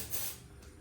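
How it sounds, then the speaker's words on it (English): Test gas aerosol sprays into a fire detector on a Kidde Excellence fire panel system, a short close hiss that fades after about a third of a second, with no voices. "So if I take my test gas and I spray it into the device"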